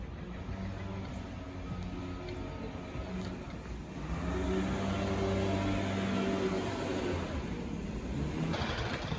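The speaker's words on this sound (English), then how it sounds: "as you can hear from the leaf blowing behind me" A gardeners' leaf blower runs steadily in the background, a constant hissing engine drone that grows louder and fuller about halfway through and stays near and unbroken.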